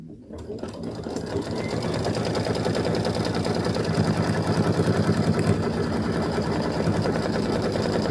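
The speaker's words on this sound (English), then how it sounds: "We're going to do our little satin stitch around that little roof." A sewing machine runs a steady satin stitch around a small roof shape on a Flag House quilt block with tan fabric, a loud and close continuous whirring that begins after a brief start and keeps going without pause.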